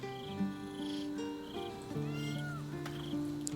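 A cat in the video game Baldur's Gate III meows several times, drawn-out and plaintive, over a soft camp ambience with a low humming tone underneath.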